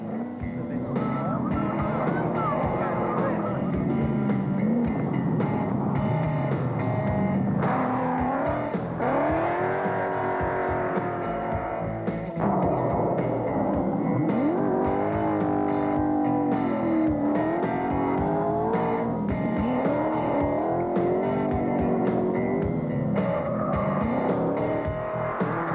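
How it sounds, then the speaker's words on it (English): Triumph TR7 V8 rally car driven sideways on the Targa Tasmania tarmac rally, its V8 engine roaring and revving continuously up and down through gear changes, loud and close throughout. "it was the Triumph TR7 V8 of New Zealand's Mark Parsons and Jane Buckman"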